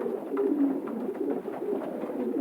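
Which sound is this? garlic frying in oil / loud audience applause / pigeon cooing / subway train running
pigeon cooing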